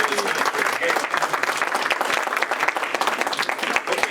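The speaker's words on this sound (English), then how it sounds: "have a nice round of applause for everything Ron has" An audience at a Rotary club meeting gives a warm round of applause, steady rapid clapping from many hands that fills the room for several seconds.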